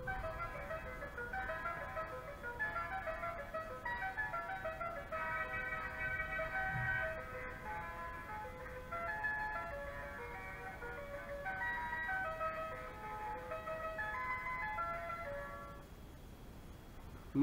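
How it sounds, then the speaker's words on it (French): Mandolin strings strummed very fast in a tremolo for a Vivaldi mandolin concerto, a steady shimmering roll of sustained plucked notes with melody lines, played alone at an even level for about sixteen seconds before easing off. "on gratte très très fort et très vite les cordes pour faire un effet trémolo, un effet brrrr, comme ça, un petit peu de roulement"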